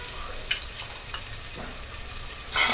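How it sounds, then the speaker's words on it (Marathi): Green chillies and curry leaves fry in hot oil for spiced rice, a steady close sizzle with a couple of faint clicks and a louder hissing burst at the very end. "व्यवस्थित आपण तेलामध्ये परतून घेणार आहोत"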